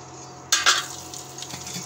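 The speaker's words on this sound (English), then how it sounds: "So very few fryams we can add in the oil and we can fry it." Fryams, Indian fried crisps, dropped into a small amount of hot oil: a sudden burst of sizzling that settles into a steady bubbling hiss, close by.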